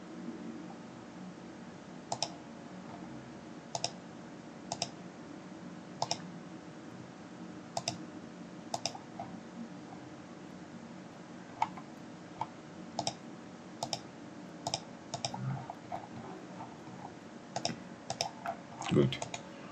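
A computer mouse clicks repeatedly during 3D modelling work in Revit 2023, with crisp, sharp clicks spaced irregularly and growing more frequent toward the end over a low steady hum.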